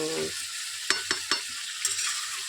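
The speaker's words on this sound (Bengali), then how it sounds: "মাংসটা কষানো হয়ে এসছে, দেখেছেন পেঁয়াজ টেয়াজগুলো কি সুন্দর" Mutton sautés with onions in a pan, a steady, close sizzle broken by a few sharp scrapes and stirs of the spoon.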